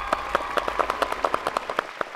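Audience applause welcoming guests at a launch event for a media and airline partnership, with rapid claps forming a steady, fairly close crowd clatter throughout.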